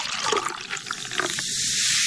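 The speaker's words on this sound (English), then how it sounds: "I'll pour you some orangeade" Orangeade poured into a glass, a bright splashing liquid stream that runs continuously and shifts into a steadier gush toward the end, close and fairly loud.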